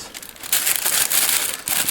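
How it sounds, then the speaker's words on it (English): Tissue paper crinkles and rustles close by in a few short bursts. "Let's get rid of the tissue paper"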